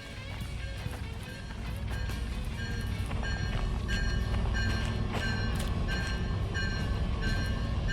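Freight train rolling in the Derail Valley simulator, a steady continuous rumble with clanking and metallic squeal overtones, building slightly in loudness and sustained throughout without talk.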